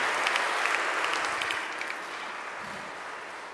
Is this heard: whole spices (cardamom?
no